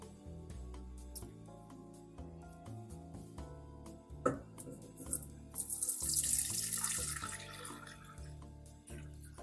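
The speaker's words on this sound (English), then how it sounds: "The next step is to strain the juice." Lamb cooking juice from a pressure-cooked leg of lamb is strained into stock, a splashing pour of liquid rising midway and trailing off beneath steady background music.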